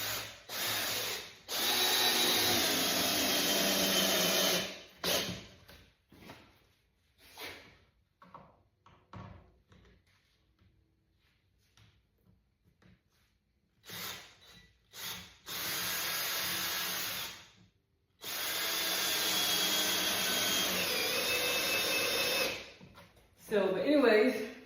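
A power drill drives wood screws into a wooden side panel in loud bursts of a few seconds each, whirring and grinding, separated by quiet gaps filled with faint handling knocks.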